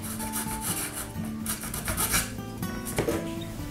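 Wood being filed by hand on an OcCre Flying Dutchman model ship kit: a steady, close rasping rub that keeps going throughout, with music playing underneath.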